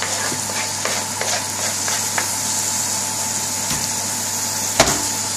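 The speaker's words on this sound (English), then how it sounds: "Give it a good stir." Canned sardine masala with coriander and green chilli is stirred in a pan over a slow gas flame, a steady close sizzle with light scraping taps from the utensil and one sharper knock near the end, with no talking.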